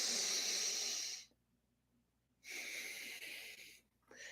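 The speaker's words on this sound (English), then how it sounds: "I was just doing some breathing exercises to kind of get ready, holding the nose." Close, quiet nasal breaths during an alternate nostril breathing exercise with one side of the nose held: a long hissing inhale, a silent pause, then a long exhale and a fresh inhale.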